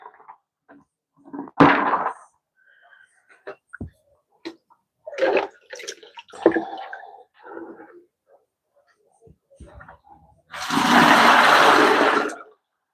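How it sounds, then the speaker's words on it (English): A sufuria cooking pot is washed and rinsed with clean water: scattered splashes and scrubbing bursts, then a long, loud pour of rinse water near the end. "We use clean water to wash, and we rinse our sufuria."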